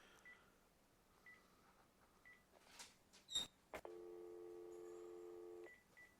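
A phone dials while calling someone back: a few faint keypad tones, then a quick burst of dialing clicks and a steady ringing tone that runs for nearly two seconds, all quiet and close.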